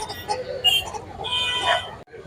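Chickens clucking and a rooster calling amid a busy background murmur at a country-chicken market in Anantapur, with a short break in the sound near the end.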